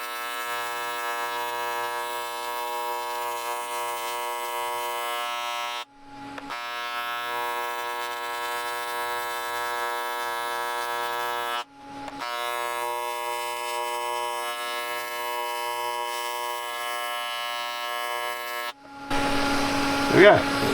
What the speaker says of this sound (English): I will run another bead along the top of this weld just to build it back up.